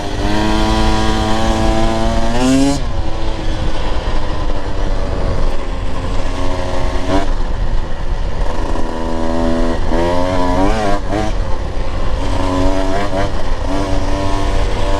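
Husqvarna TE 150 TBI two-stroke dirt bike riding over rolling ups and downs, engine loud and close throughout with repeated revving surges that climb and fall as the throttle opens and eases.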